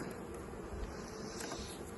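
A steady, low buzzing of many honey bees at a hive hums continuously throughout, fairly faint and even, with no voices.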